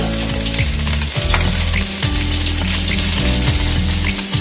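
Green chilies and tempering spices fry in hot oil, a loud, steady sizzle with stirring scrapes and low rumbling tones throughout, no talk.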